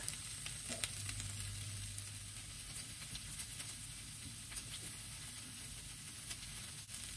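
Soya meat sizzles on a hot grill, a steady close crackling hiss that runs unbroken throughout with no voices.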